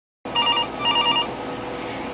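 A telephone bell rings in two loud, close bursts with a short gap between them, then a steady hum lingers after the ringing stops.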